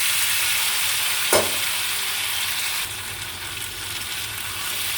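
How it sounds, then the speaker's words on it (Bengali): Beef tripe frying in a pan gives off a steady, dense sizzle that runs through the whole stretch, with one brief louder crackle partway in and no voices. "ভেজে নিচ্ছি আমি এখন ভুড়িটা।"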